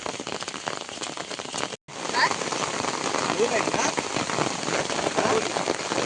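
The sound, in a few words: rain falling by river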